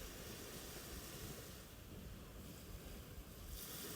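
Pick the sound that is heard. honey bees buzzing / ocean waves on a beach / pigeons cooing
ocean waves on a beach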